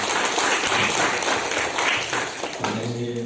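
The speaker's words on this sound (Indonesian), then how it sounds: "Ya, tepuk tangan dulu kalau ini." An audience at an Islamic school graduation ceremony applauds, a full, steady round of clapping that thins toward the end as a voice begins under it.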